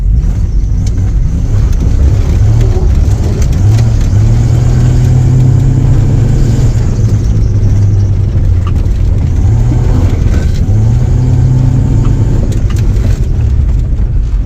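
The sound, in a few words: Jeep Cherokee 4.0 engine revving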